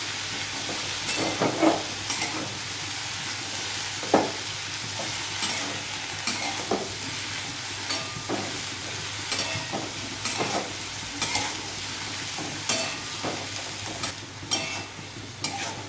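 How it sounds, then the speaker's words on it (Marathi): Dry cauliflower sabzi fries in an open kadhai while a spoon stirs it, a continuous close sizzle broken by repeated scraping and knocking strokes at an unhurried, irregular pace. "हे सर्व व्यवस्थित मिक्स करायचे आहे"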